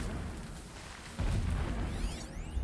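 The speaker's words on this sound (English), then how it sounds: "Explosions in the distance." A deep boom rolls in partway through, leaving a low sustained rumble like distant explosions in the video game Horizon Zero Dawn.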